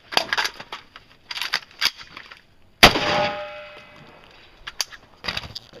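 A single sharp rifle gunshot cracks at a practical rifle match, loud and close with a ringing tail, amid faint clanks and short bursts of background noise before and after.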